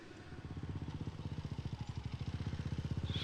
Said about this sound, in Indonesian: Suara motor siapa, Gun?